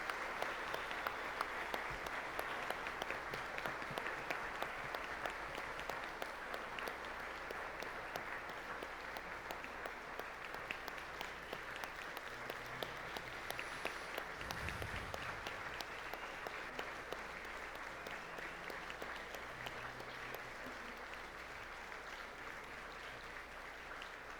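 Long, steady applause from an audience at a talk, dense hand clapping sustained and fairly distant, with a brief low thump midway.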